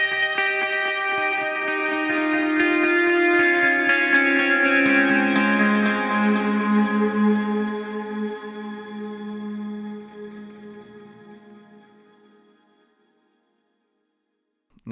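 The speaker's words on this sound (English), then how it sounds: "it just sounds like someone's just got all their effects pedals and turned them all on at the same time" A sustained ambient guitar swell from an Axe-Fx auto-swell patch, with heavy reverb and layered effects, shimmers for several seconds, then slowly fades into silence.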